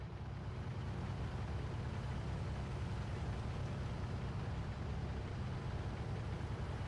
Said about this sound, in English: This is a scout car, a Panzer Elite vehicle that can capture strategic points.